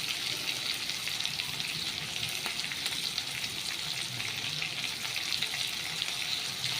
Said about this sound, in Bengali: মশলাটাকে ভেজে নিই